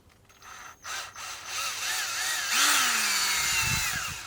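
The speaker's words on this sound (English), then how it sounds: "I'm just going to go grab the drill bit and make it a little bigger." A power drill whirs and bites into plastic, its pitch rising and shifting under load for several seconds, close and steady with brief stops near the start.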